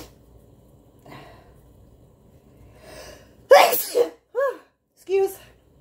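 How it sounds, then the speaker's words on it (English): A woman sneezes loudly at close range, a sharp burst followed by a couple of short wet snorts and sniffs, after some quiet murmured talk. "I'm gonna sneeze."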